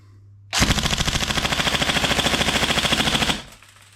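A Tokyo Marui M4 SOPMOD Next Gen recoil airsoft electric gun fires full auto until the magazine runs dry, a close, loud, rapid even rattle of about three seconds that stops abruptly.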